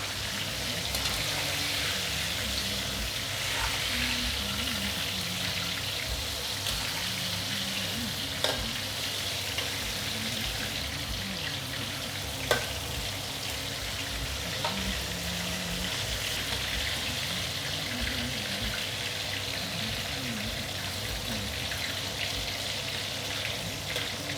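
Chicken pieces for lemon chicken fry over high heat in a pan, giving a steady, close broadband sizzle that runs unbroken for the whole stretch, with a few faint clinks and stirring scrapes and no talking.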